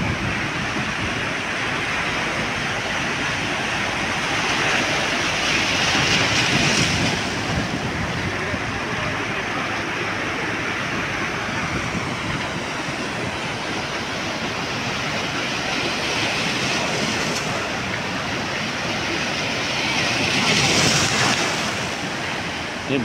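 Sea waves wash ashore at Digha beach in a steady, loud roar of surf, swelling twice as breakers roll in close by, with wind buffeting throughout.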